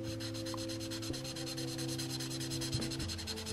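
A Promarker felt-tip marker rubs across paper in quick, rhythmic back-and-forth strokes laying down dark blue. The scratchy, even strokes sit close over a steady low hum.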